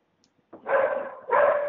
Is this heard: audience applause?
no